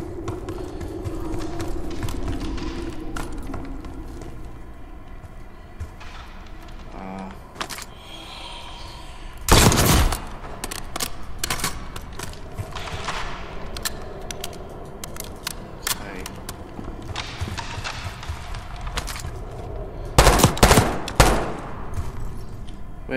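Gunfire in the Call of Duty Black Ops 6 campaign: two loud bursts of rapid shots stand out, one near the middle and one late, with scattered lighter cracks and clatter in between.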